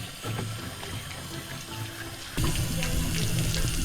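Tap water runs steadily into a sink while squid skin is rinsed, a continuous close splashing stream that grows louder and fuller partway through, with no talking.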